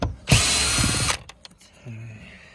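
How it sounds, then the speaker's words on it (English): A cordless screw gun backs screws out of the door panel of a 2008–2015 Toyota Avensis D4D 2.0 during window regulator repair: one loud, close whirring burst of just under a second, then clicks and handling noise. "let's get the old screw gun on the go. Zap them out."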